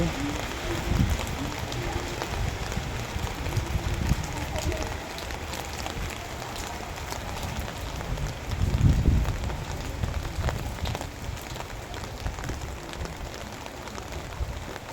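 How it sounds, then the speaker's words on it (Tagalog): Steady rain in Lipa, Philippines, patters throughout, with a dense broadband hiss and occasional heavier bursts of drops, fairly close and continuous. "Maulan ang panahon ngayon dito guys."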